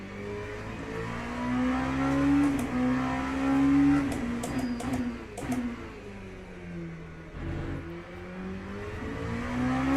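Engine of an LMP2 prototype race car in the Le Mans Ultimate racing game, revving up and down steadily with shifting pitch across the whole stretch, no talk over it.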